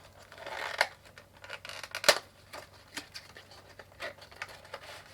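Packing tape being cut and torn open on a cardboard box holding an infrared forehead thermometer, heard as a series of short crisp snips and rustles with one sharp loud rip near the middle, close by with no talking.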